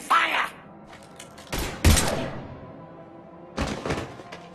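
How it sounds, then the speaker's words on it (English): Gunfire bursts from the video game Mass Effect 3: a couple of sharp, loud broadband volleys about a second apart, then a quieter lull with faint rumble before another burst near the end. "Now open fire!"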